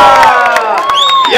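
A supermarket crowd at a Jeep giveaway cheering and whooping loudly with clapping underneath, voices rising in excited shouts.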